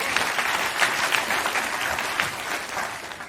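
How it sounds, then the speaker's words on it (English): A talk audience claps in a brief burst of steady, moderately loud applause that tapers slightly toward the end. "Round of applause."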